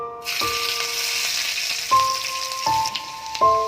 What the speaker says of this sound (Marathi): तेल आता तापलं आहे. आपण लसूण टाकून घेऊ.